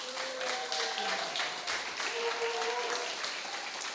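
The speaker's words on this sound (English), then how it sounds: "Another round of applause for Sophia, please." Audience applause for a poem reader at a creative cafe gathering, steady dense clapping at moderate volume with a few voices calling out over it.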